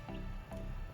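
A plant cutting, a Wandering Jew stem with its leaves trimmed, dropped into water: short wet splashy drips and squishes, close and clear, repeating about twice within a second.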